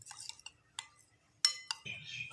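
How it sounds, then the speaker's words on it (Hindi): A spoon mixing a seasoned batter with red chili and salt in a bowl gives a few sparse, light clinks and scrapes against the dish, close and quiet, with a brief murmur near the end. "अब ये इसको मिक्स करते हैं।"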